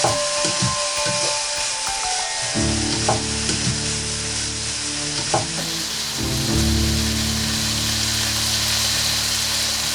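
Collard greens sizzle and fry steadily in a hot pan while being stirred, with a constant bright hiss and occasional scraping knocks of a wooden spoon, close and continuous with no voices.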